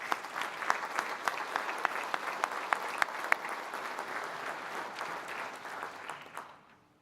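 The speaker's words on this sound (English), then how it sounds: "give a round of applause to firefighter-paramedic Christina Castro" Sustained audience applause fills a hall at the 2019 HCDFRS fire and rescue awards ceremony, steady dense clapping with a few sharp individual claps, tapering and fading out near the end.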